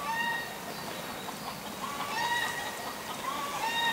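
A hen in a vegetable garden clucking after laying an egg, a run of loud, drawn-out squawking calls repeated several times at moderate distance, with no talk.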